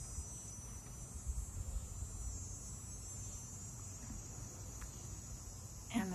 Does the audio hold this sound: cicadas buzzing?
yes